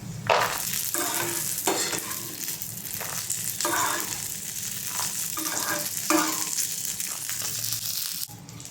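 Peanuts and roasted gram fry in a pan for a peanut chutney, a steady close sizzle punctuated by repeated scraping stirs that come in short bursts every second or so.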